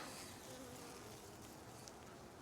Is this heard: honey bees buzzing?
yes